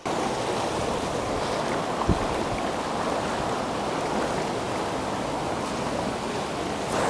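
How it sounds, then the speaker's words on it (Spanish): A hidden waterfall, heard up close as a steady, loud roar of rushing water that holds constant the whole time, with one brief thump partway through. "Esta es la cascada conocida como la cascada escondida."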